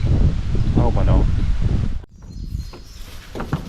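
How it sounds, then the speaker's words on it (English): Wind blowing outdoors beside a Jeep Gladiator while a kayak rack is being loaded, a loud rushing gust buffeting the microphone that drops off abruptly, then softer breezy rustle with a person speaking. "It's starting to get windy."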